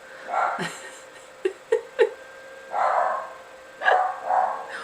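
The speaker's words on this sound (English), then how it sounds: "you're going to hear my dogs bark because our neighbors are out" Several pet dogs bark indoors in short bursts, a few sharp single yaps followed by longer volleys of barking, fairly close and loud.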